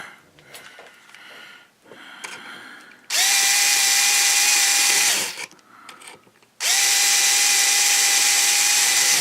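A power drill bores holes in a Phoenix Models Genesis model kit, with two loud sustained runs of whining motor noise separated by quieter handling sounds.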